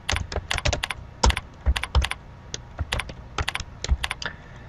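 Rapid, irregular key clicks from a computer keyboard as text is entered into an Excel spreadsheet, close and crisp with short bursts and pauses, no voices.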